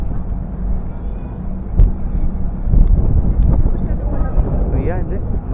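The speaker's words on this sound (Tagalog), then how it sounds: "It's not that cold, but it's windy." Strong wind gusts across the open deck of a Carnival cruise ship, a loud, continuous blustery rumble buffeting the microphone, with faint voices and a distant mechanical hum underneath.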